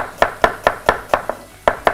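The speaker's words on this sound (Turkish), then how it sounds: "Hemen patlıcanın soğanlarını doğrayayım, terleteyim." A knife chops onions on a cutting board for a roasted eggplant soup, striking eight or nine crisp close taps at a steady, slightly uneven rhythm.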